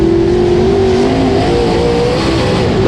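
Dirt modified race cars roaring around the Brownstown Bullring track, a loud continuous engine drone with a steady pitch that shifts slightly as the cars run close together, no talk audible.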